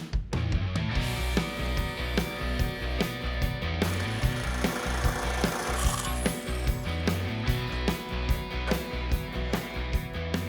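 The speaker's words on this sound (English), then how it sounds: "I'm gonna cut 2 6-inch strips and just fold them." Cutting two six-inch strips of thick sheet metal in a custom car garage, with a steady, loud rhythm of close, repeated cutting strokes that continues throughout with no talk.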